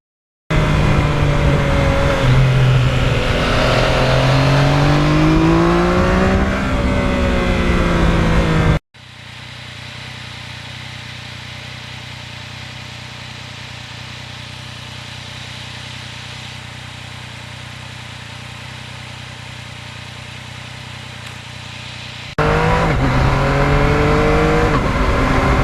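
A 2020 Yamaha MT-09 motorcycle accelerating hard with quick-shifter gear changes: loud, close engine revs rising and briefly cutting on each shift. A stretch of steady wind and road noise follows, then the revving returns.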